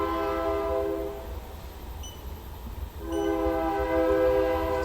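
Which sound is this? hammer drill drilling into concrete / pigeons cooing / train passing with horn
train passing with horn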